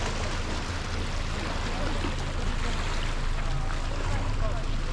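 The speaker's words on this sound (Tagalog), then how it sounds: "Lumaragas ang tubig." Water rushes steadily with a broad, constant roar, heard close and unbroken for several seconds.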